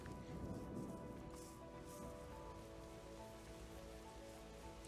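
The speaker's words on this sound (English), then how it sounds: "Rains begin. That's what we needed." Rain falls in the video game Terra Nil as a soft, steady patter and hiss that is faint and continuous, with a low hum and no talking.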